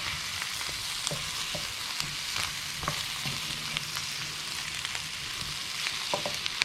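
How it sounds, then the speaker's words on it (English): Pumpkin pieces fry in a pan with spices, onion, garlic and ginger paste, giving a steady close sizzle with occasional crackles and pops and soft stirring clicks, no talking. "my pumpkin's just been frying away there in those spices, onion, garlic, ginger paste"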